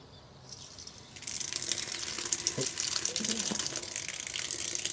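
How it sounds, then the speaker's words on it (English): Water starting to run through a line from an opened valve on a solar batch water pre-heater, a faint rushing flow that begins after a moment of near silence and then continues steadily, with small knocks. "we're just waiting for a bit of water to run through"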